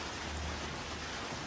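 Steady rain falls continuously outdoors on an island trip in Indonesia, a dense even hiss that stays constant and fairly faint, with no voices.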